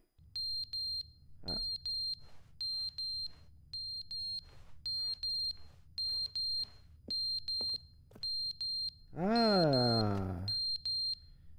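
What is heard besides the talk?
fire alarm ringing in video game The Stanley Parable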